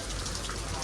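Heavy rain falling steadily, a dense, loud, continuous hiss of drops on surfaces with no break.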